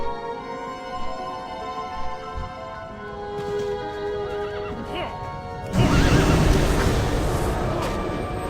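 A Scarlet Onslaught Warhorse in the World of Warcraft video game whinnies over steady game ambience, followed by a louder burst of hoofbeats and action noise toward the end.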